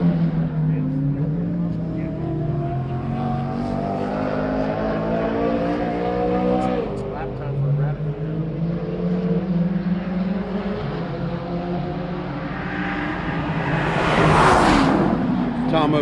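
Race cars circle the track at the 2021 AMP morning session, their engines droning and shifting in pitch as they pass, a louder car swelling near the end, while people talk over the noise.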